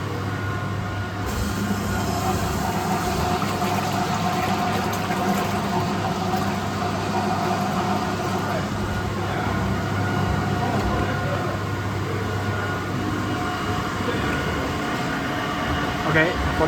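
A 300L steam-heated vacuum emulsifying mixer running its oil tank mixing function, a constant droning machine hum with a steady low rumble, unchanging and fairly loud throughout.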